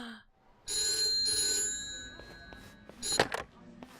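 An old-style telephone bell rings in Yakuza: Like a Dragon, a loud metallic trill in two bursts, followed by a fainter clatter and a short ring near the end, with no talk.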